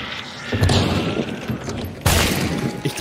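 Loud booming gunshots from the Hunt: Showdown video game, heavy blasts with a sharp fresh report near the end, layered over ongoing game ambience.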